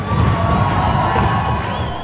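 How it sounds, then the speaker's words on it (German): Wrestling fans at a final bout in a Swiss hall cheering loudly, a dense roar of shouting and whooping voices that stays strong and close throughout, with a few dull thumps underneath. "Jubeln seine Fans nächstes Mal alle so?"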